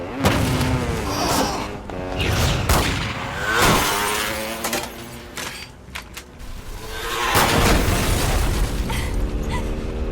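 Anime gunfire from attackers shooting at fleeing characters, heard as a loud, dense barrage of bursts and booms mixed with impacts and clatter, running nearly continuously with brief dips.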